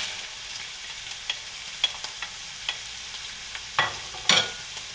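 Cooked meat with onions, carrots and celery stirred in a pan: a soft background sizzle broken by scattered scrapes and clicks of a spoon against the pan, ending in two louder scraping strokes, with no speech.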